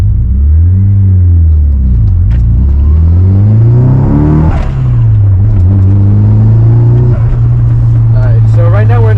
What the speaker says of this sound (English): we're just going to run through the gears real quick